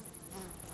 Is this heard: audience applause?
no